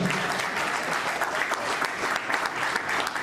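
Dense, steady audience applause at an expo launch event, sustained at even loudness throughout.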